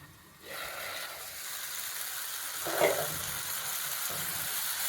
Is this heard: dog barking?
no